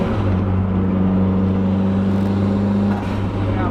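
A low-mileage JDM mid-engine car with a turbo drives steadily, its engine droning loud and close for several seconds with windows down, a faint whir riding over the steady hum before a slight dip near the end.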